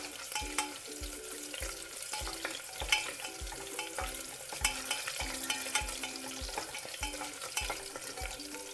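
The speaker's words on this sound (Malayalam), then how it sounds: "അരിഞ്ഞു വെച്ച സവാള, ക്യാരറ്റ്, ഉരുളക്കിഴങ്ങൊക്കെ ഇട്ട് കൊടുത്ത് ഒന്ന് വഴറ്റിയെടുക്കാം" Chopped onion, carrot and potato sautéed in a pan for a little millet masala dosa filling, with a steady frying sizzle and repeated scraping stirs of a spoon against the pan, close and continuous.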